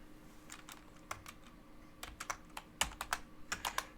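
Computer keyboard typing: a run of quick, crisp key clicks in uneven bursts, close and moderately loud over a faint background hum, with no talking.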